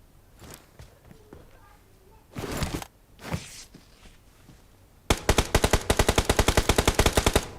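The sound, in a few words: gunfire from enemies shooting, video game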